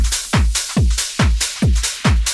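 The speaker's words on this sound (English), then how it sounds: "All the drums together sound like this." A punchy speed garage drum loop with deep booming kicks and crisp hi-hats in a swung, shuffling groove, loud and upfront.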